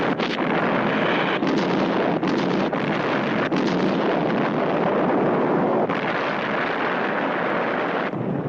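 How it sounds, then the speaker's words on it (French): A long, loud, roaring rumble fills the whole stretch, like a sustained explosion blast, fluctuating slightly before easing near the end. "Et voici l'explosion."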